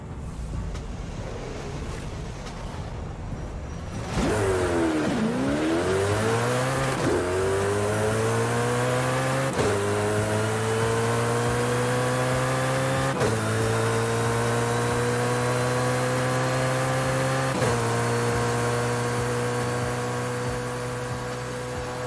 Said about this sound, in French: on va faire la petite course de drag accompagnée de notre magnifique Koenigsegg Jesko